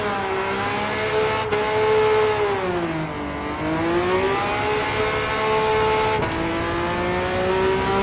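Nissan R31 Skyline turbo drift car in Gran Turismo 7, engine loud and alone, revs rising and falling in long sweeps with a couple of sharp shift breaks.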